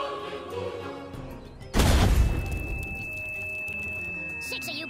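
A musket shot fired in the artillery game Worms Battlegrounds bursts out loud and sudden, a single blast with a long rumbling tail over a steady hum and bright sustained tone.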